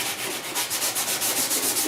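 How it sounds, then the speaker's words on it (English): Hand block sanding of body filler on a 1969 Chevy C10 cowl and firewall repair, a close, rapid rhythmic back-and-forth rasping with about a dozen even strokes and no talk. "That's all part of block sanding."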